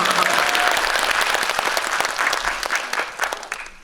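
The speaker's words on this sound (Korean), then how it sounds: "박수 한번 치시고." A film audience at a special post-screening talk breaks into dense, sustained applause, full and close at first, then easing slightly and thinning into scattered claps near the end.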